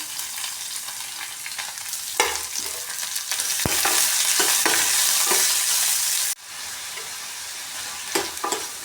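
Chopped onion and green chilies frying in a pan for a masala potato dish, a steady loud sizzle with scraping stirs and clicks of a spoon, swelling midway and then dropping suddenly.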